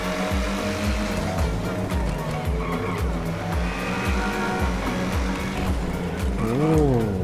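Alfa Romeo Giulia Quadrifoglio accelerating in GTA at night, its engine note climbing through repeated gear-shift cycles, loud and steady, with a rising sweep near the end and talk over it.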